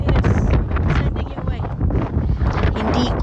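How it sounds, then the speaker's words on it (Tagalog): Strong wind at Tintagel Castle on the coast, heavy gusts battering the microphone in loud rumbling bursts while people talk through it. "kailangan ko i-voice over kasi ang lakas-lakas ng hangin"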